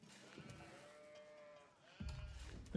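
Livestock bleating in a real-time strategy game match, a couple of short sheep-like bleats with a faint soft thud and clatter of game effects, quiet and isolated.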